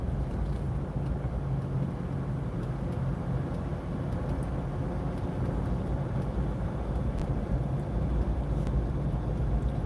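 A car driving through the mountains near Big Bear, California, with a steady, loud low engine and road rumble inside the cabin that holds constant throughout, without talking.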